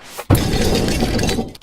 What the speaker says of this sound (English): It's clear that you used ice or some sort of glass shattering, and I love it.